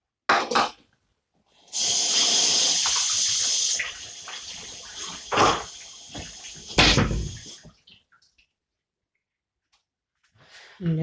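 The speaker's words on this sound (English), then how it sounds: "I'm just washing and putting away my knife and washing my hands at the same time" Tap water runs in a steady stream for a couple of seconds, then splashes in short, irregular bursts as a kitchen knife and hands are rinsed during spaghetti bolognese preparation, close and fairly loud, ending in quiet.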